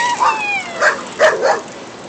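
Dogs yip and bark in a few short, bright bursts close by, with a whimpering, high-pitched quality over a soft wet background.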